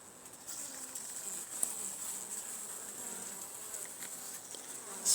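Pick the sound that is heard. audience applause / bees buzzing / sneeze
bees buzzing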